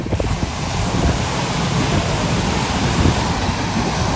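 Ocean surf washing onto a rocky, sandy shore at Dingalan, Aurora, a steady loud roar of breaking waves mixed with wind buffeting the microphone, with no voices.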